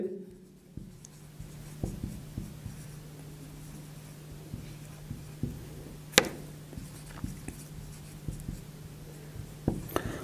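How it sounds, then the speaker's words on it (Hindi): A marker writes on a board during a classroom lesson, producing a run of short taps and scratchy strokes at an uneven pace over a low steady hum. "मैं लिखता हूं यहां पर"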